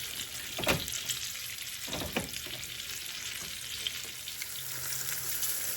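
Corn frying in the leftover oil from pork chops, a steady sizzle and crackle broken by a few louder bursts as the pieces are rolled around in the pan.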